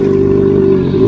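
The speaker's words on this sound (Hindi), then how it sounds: "तभी अचानक एक बढ़िया स्पोर्ट्स बाइक पर सवार एक लड़का" A sports motorcycle arrives with a steady, loud mid-pitched engine drone that holds level throughout, without any audible voices.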